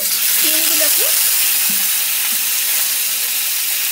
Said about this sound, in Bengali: এখন আমি কড়াইতে তেলের মধ্যে দিয়ে দিলাম কালো জিরে ফোড়ন